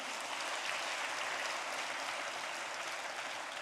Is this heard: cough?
no